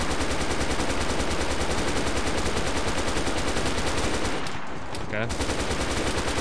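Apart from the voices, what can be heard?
gunfire from the video game DayZ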